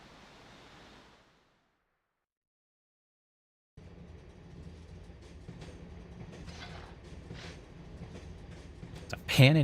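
A train in the video game Dark Cloud 2 rumbles steadily with a broad rolling noise after a brief silent gap, continuing evenly and swelling louder at the end.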